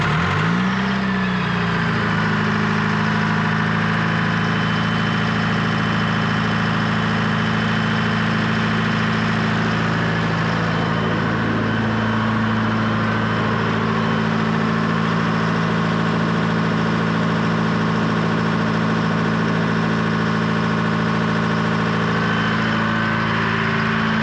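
A big engine on an F-4 Phantom catches after cranking and settles into a steady, loud, continuous idle drone that runs unbroken throughout.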